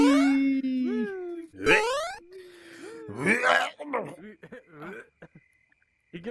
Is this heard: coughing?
yes